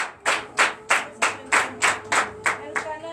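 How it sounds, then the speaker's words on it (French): A church congregation at a Sunday worship service claps in steady unison, about nine sharp, evenly spaced beats of close, loud clapping with no talk over it. "Donnez l'acclamation à l'Éternel."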